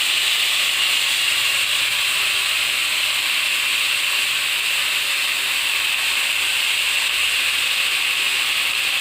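Red amaranth leaves hitting hot oil in a frying pan make a loud, steady hiss that runs evenly and unbroken throughout, with no voices.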